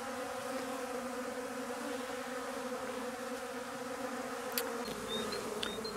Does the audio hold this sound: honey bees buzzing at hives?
yes